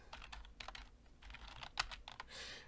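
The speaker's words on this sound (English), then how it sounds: "I'm really typing fast" Rapid typing on a computer keyboard gives a quick, irregular stream of close, crisp key clicks with a few louder strikes.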